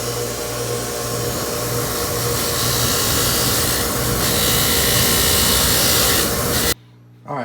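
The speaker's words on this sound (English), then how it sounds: "I'm over here cleaning some bolts" Metal bolts being cleaned and polished in a garage workshop, a steady loud rubbing and buffing noise that runs continuously before cutting off abruptly near the end.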